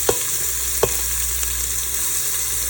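Chopped onion sizzling and frying in an Instant Pot, a steady hiss with a couple of sharp clinks from stirring, heard alone.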